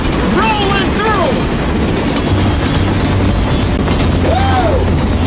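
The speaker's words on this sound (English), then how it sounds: "Wow, that's a long train" Train sound effect played on a sports radio show, a loud steady rumble of a passing train with rhythmic clickety-clack and whistle-like sweeps throughout.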